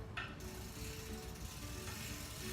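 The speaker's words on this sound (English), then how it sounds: "put the wrench into the pedal spindle and just pedal backwards. That will automatically tighten counterclockwise." A wrench seated in the pedal spindle of a 6KU Urban Track fixed gear bike ratchets as the pedal is turned backwards to tighten it, giving a quiet, continuous run of close clicking.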